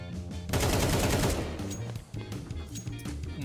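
Loud, rapid bursts of gunfire from a Counter-Strike style video game, with dense overlapping shots that start abruptly and continue in close, sharp volleys throughout.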